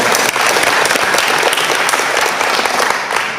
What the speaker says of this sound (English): Let's give Adrian another big round of applause for that.